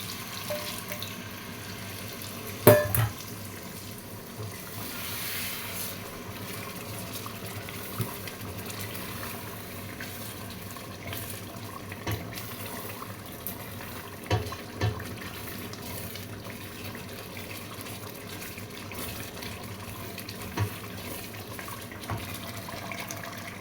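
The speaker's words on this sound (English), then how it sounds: "And now I'll put water." Water running into a pot of African stew on the stove, a steady faint trickle and splash through most of the stretch with a few sharper clinks, no talking.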